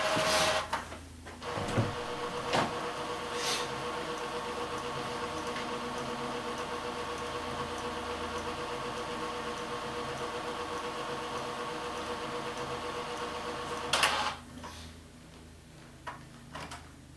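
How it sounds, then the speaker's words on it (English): A printer running indoors, a steady mechanical whir with clicks and a couple of sharp clacks near the start, a louder burst near the end as it finishes, then quiet hum. "This printed out of the printer."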